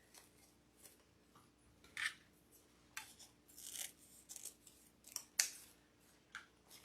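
Scissors snip through wreath decoration material on a grapevine wreath, several quiet, close crisp cuts scattered irregularly with small rustles between them.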